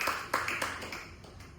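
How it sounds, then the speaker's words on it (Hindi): A church congregation claps together, a steady wash of many hands at moderate loudness with faint accents, no talk over it. "हम जोर से तालियां बजाकर उनको धन्यवाद करेंगे"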